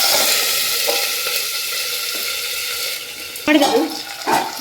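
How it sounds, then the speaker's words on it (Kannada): Curry leaves drop into hot oil for a village-style ladyfinger sambar, giving a loud, continuous sizzle that breaks into sharper crackling bursts as they hit the pan. "ಕರಿಬೇವು ಹಾಕ್ತಾಯಿದ್ದೀನಿ"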